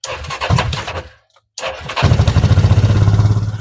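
Coleman UT400 side-by-side engine cranking over and catching after a pause, then settling into a loud, close, steady rhythmic idle with no talk.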